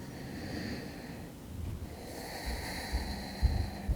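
Deep, slow nasal breaths during a yoga flow in an upper-body side plank sequence, a steady inhale and exhale with faint snorting air close to the microphone.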